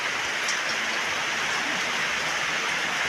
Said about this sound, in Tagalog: Kalibasa ay malakas po ang ulan.